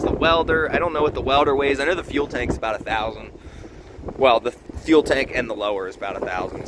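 Strong outdoor wind buffets the microphone in low rumbling gusts beneath someone talking continuously throughout.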